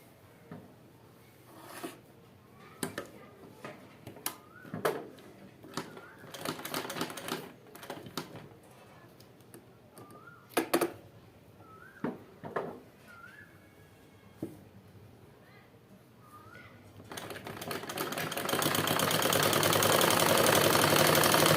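Sewing machine stitching the seam of a kurti, heard as bursts of mechanical clatter with short pauses between runs, ending in a steady loud hiss.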